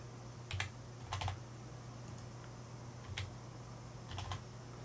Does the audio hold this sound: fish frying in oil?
no